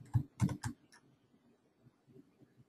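Typing on a computer keyboard during an online webinar: a few quick, fairly close clusters of key clicks at the start, then fainter scattered taps.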